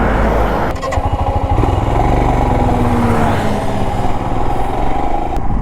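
A BS6 Royal Enfield Himalayan motorcycle engine runs close and loud with a steady thumping rhythm, its pitch rising and falling a little as it is ridden, with no talk.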